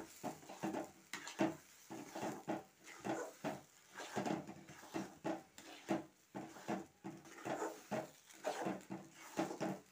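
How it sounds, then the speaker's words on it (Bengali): Sliced ridge gourd being stirred in a pan with poppy seed paste produces a steady run of close, rhythmic scraping and clacking strokes from a utensil against the pan, repeating for several seconds without talk. "ঝিঙে এখন আমি এইভাবে ভালো করে নাড়তে থাকবো।"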